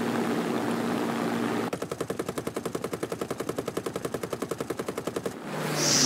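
Hawker Hurricane machine guns firing in War Thunder, a long rapid rattling burst of evenly spaced shots over a steady engine drone, loud and close, with no talking.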